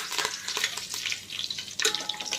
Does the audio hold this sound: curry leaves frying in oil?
yes